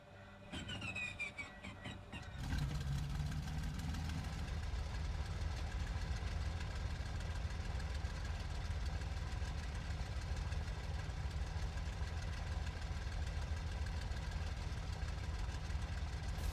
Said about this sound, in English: It's a Daimler-Benz engine,